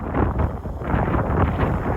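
Strong wind gusts buffet a microphone outdoors on a street near a McDonald's, a continuous loud low roar that swells and eases without a break.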